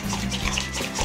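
An ingredient is poured slowly into mayonnaise as it is whisked, giving a short, steady liquid stream with a soft splashing texture and no talking.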